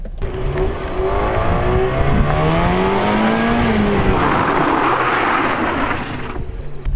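A car engine revs hard under power during stunt driving practice, loud and sustained with rising and falling pitch, with faint tire squeal near the end.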